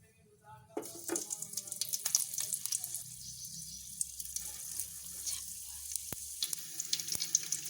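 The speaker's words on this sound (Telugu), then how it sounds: "దానిపైన అది మంచిగా వేడొచ్చినాక మనం ఇప్పుడు ఆయిల్ వేసుకుందాం" Oil heats in a kadai on the stove before chicken is fried, starting with a sudden sizzle and then settling into a close crackle with scattered pops and clicks, with no one talking.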